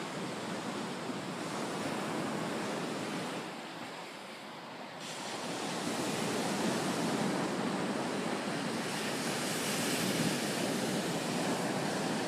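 Ocean surf on a private beach produces a continuous broad wash of rolling waves, moderately loud and steady with a slight lull midway, wind noise blended in and no talking.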